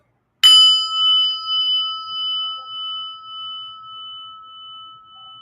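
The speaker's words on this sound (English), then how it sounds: "listen to the prayer bell" A single bell is struck once, ringing out clear and bright, then its tone hangs and slowly fades with a gentle pulsing shimmer.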